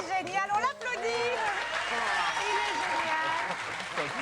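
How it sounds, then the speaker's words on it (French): Applause from a TV studio audience rises under excited voices and cheering, continuing steadily for a few seconds. "Il est génial, on l'applaudit."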